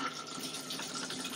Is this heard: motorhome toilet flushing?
yes